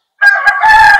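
Loud, close rooster crow from a flock of Black Australian Orpington chickens crossed with native fowl, a single sustained call with a brief break before the drawn-out ending.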